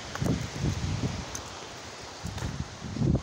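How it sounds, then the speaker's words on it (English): Outdoor wind gusts buffet the microphone in low rumbling bursts with a soft rustling wash between them, rising and easing unevenly throughout. "Wind's starting to calm down a bit."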